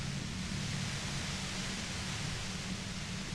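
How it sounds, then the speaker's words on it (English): Steady hiss of white noise in the video game Disco Elysium, a constant, even static wash holding level throughout with no pauses and no voices. "You hear through the white noise."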